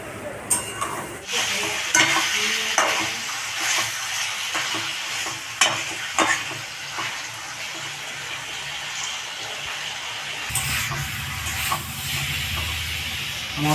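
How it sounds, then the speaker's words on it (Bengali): Masala spices with salt fry in a pan for a rohu fish curry with raw mango, a loud continuous sizzle broken by repeated scraping stir strokes, with a hissier burst near the end. "এবার এটাকে ভালো করে মশলাটাকে একটু কষিয়ে নিই।"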